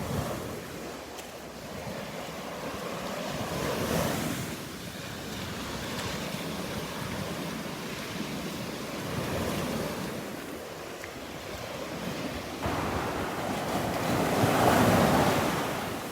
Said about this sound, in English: I think the waves are actually just a little bigger this morning.